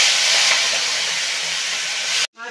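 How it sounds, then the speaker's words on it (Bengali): Prawns shallow-fry in hot oil in a wok, a loud, continuous sizzling hiss that cuts off abruptly near the end, with no talking over it. "এবার চিংড়ি মাছগুলোকে একটু হালকা করে ভেজে নেব।"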